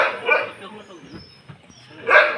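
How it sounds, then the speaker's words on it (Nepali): An injured dog rescued from the roadside barks and yips in a couple of short bursts at the start and end, with quieter whimpering in between and people talking nearby. "यो कुकुरलाई चाहिँ हामीले उद्धार गर्न ल्याएका छौँ। बाटोमा घाइते अवस्थामा थियो।"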